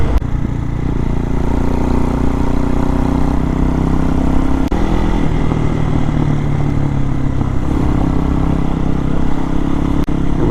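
A 2023 Hawk-X 250 motorcycle with a modified stock carburetor cruising along a narrow back road, its engine droning steadily and loudly at close range throughout.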